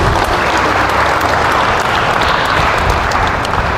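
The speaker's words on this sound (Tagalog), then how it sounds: "Yung mga ibang pumapalakpak pero malungkot pumalakpak." A church congregation clapping during a sermon in Cavite City, dense continuous applause holding at a steady loud level throughout.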